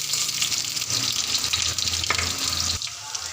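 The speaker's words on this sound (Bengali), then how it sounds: "তেলটা গরম হয়ে গেছে, তার মধ্যে কাটা পটলগুলো ছেড়ে দিলাম। পটলগুলো ভালো করে ভেজে নিয়ে হবে।" Chopped pointed gourd frying in hot oil, producing a dense, continuous hiss and crackle that stays loud and steady throughout, with a faint knock near the end and no speech.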